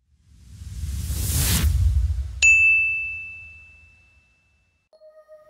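Notification bell sound effect: a rising whoosh that swells and ends in a single bright ding ringing out for a couple of seconds, followed by a faint short chime, with no speech.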